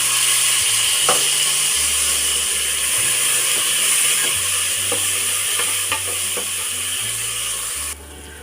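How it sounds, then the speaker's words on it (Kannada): Tomato frying with onions and curry leaves in a pan, a loud continuous sizzle with repeated scraping and clinking of a spoon stirring against the metal, steady throughout with no voices. "ಟೊಮೊಟೊ ನಾನು ಒಂದು ಎರಡು ನಿಮಿಷ ಫ್ರೈ ಮಾಡ್ಕೊಂಡಿದ್ದೀನಿ"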